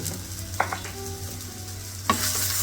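Sliced hotdog pieces being stirred with spices and turmeric in a frying pan, a low steady sizzle broken by two brief scraping stirs of the spoon.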